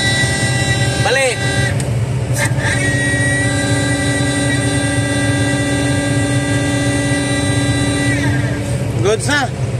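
Kobelco SK220-10 excavator with its repaired travel motor running at full throttle, a steady loud mechanical drone with sustained whining tones throughout, close by, with a few short squeals near the start and end.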